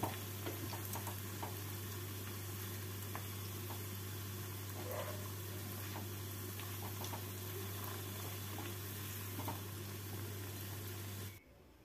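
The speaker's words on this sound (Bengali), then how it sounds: "গ্যাসটাকে মিডিয়াম ফ্লেমে রেখে বড়াগুলো ভেজে নিচ্ছি।" Cauliflower fritters fry in oil over a medium gas flame, giving a steady, soft sizzle with scattered small pops and a constant low hum underneath, all without speech.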